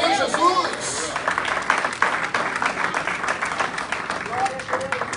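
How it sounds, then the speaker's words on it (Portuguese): A church congregation claps together, a dense steady patter of many hands filling the room, with voices calling out over the applause. "Diga glória a Deus e aplauda ao Senhor Jesus."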